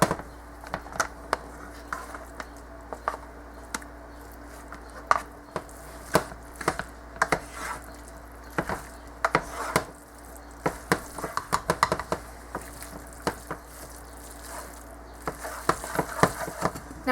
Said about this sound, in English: So now I'm going to add my orzo to the dish.